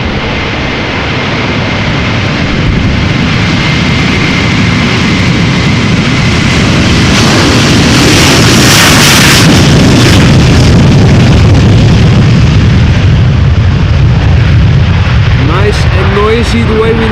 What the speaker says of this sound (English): Delta Airlines Flight 179 going to Portland, Oregon, A330-300